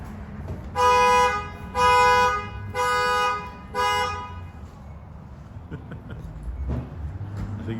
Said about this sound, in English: I think he was honking at us on purpose.